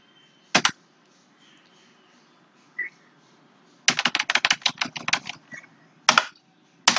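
Computer keyboard keys tapped out as router configuration commands are entered: a few isolated keystrokes, then a quick cluster of rapid presses and a final couple of sharp taps, close and clear in a quiet room.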